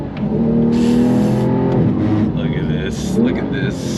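A 2022 Porsche 911 GTS engine revs hard under acceleration, a loud rising howl that climbs in pitch, eases off, then climbs again, with someone talking over it.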